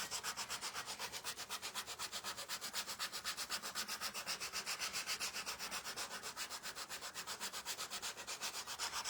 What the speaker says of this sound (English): when I'm sanding, I'm going this way